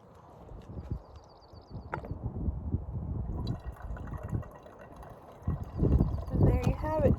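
Filtered water from a Sawyer Mini trickles and drips into a container outdoors while backpacking in Yosemite, close and fairly soft, with a person talking over parts of it and a burst of pouring toward the end.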